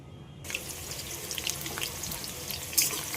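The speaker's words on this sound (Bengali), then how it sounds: "পেঁয়াজগুলোকে লাল লাল করে ভেজে নেব।" Onions drop into hot oil and burst into a loud, continuous hiss of frying that holds steady at close range, with small crackles, as they begin browning for a country chicken curry.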